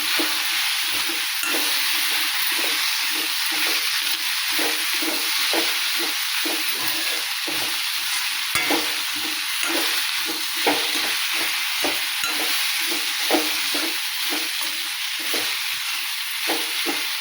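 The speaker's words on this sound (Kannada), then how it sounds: "ಈಗ ಇವು ಹಾಗಲಕಾಯಿ ಹಾಕ್ತೀನಿ ನೋಡ್ರಿ. ಸ್ವಲ್ಪ ಚೆನ್ನಾಗಿ ಮಿಕ್ಸ್ ಮಾಡ್ತೀನಿ" Bitter gourd stirred into hot oil in a frying pan, a loud continuous sizzle broken by a rapid run of scraping spatula strokes, close and alone without speech.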